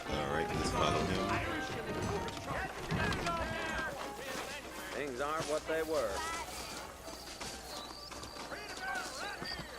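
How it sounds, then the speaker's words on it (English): Horse hooves clip-clop in the Red Dead Redemption video game, with saddled horses moving under loud overlapping talk, music and other game sounds for most of the stretch. "I got the horses saddled up and ready out front."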